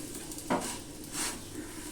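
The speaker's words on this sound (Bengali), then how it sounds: "একই রকমভাবে আমি সব পরোটাগুলো ভেজে নেব" Paratha frying in a little oil in a pan, with a soft steady sizzle and a couple of brief scraping or turning noises from the pan, fairly quiet and close.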